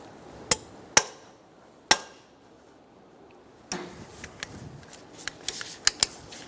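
Sharp clicks from a wrench tightening the crankshaft bolt on a 2003-2007 Honda Accord: three spaced, distinct snaps followed by a quicker cluster of lighter ticks, close up against a quiet background.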